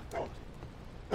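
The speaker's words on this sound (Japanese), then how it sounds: "タビワンワン泣いてるけど" Dog whimpering and yipping in the Sherlock Holmes: The Devil's Daughter video game, short quiet whines at the start and again at the end over low background noise.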